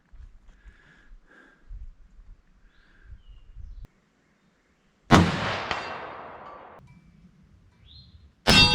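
A 1943 Remington 03-A3 National Match clone in .30-06 fires at a target outdoors, one loud sharp blast with a long rolling echo that fades out, followed moments later by another abrupt report. Faint handling and bird sounds come before it.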